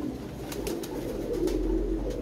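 Pigeons cooing softly in a low, throaty murmur, a brief muffled burble beneath faint background hiss, with no voices present.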